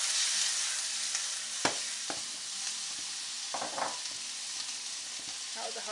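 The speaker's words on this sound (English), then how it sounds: "So now I'm going in with all the vegetables. Peppers, garlic, ginger, onions, all of it in." Peppers, garlic, ginger and onions sizzle in a hot pan, a steady hiss broken by a few sharp clacks of a utensil and spitting bursts, fairly quiet and close, with no talking.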